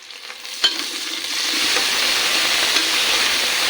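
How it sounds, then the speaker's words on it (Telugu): Two spoons of ginger paste hit fried onions in a hot pan for tomato rice: a sharp clatter, then the sizzle swells into a loud steady hiss while it is stirred. "అల్లం పేస్ట్ వేస్తున్నాను నేను 2 స్పూన్లు."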